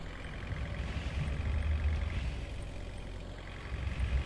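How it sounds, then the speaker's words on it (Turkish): A bus engine drones steadily with rumbling road noise while driving in a video game, a continuous low hum with no talk over it. "Motor sesi, yol sesi ne kadar güzel geliyor."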